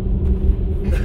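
Car tires rumble over the steel grate deck of the Irvin S. Cobb Bridge in Paducah, Kentucky, a loud, continuous low roar with a gritty vibrating texture.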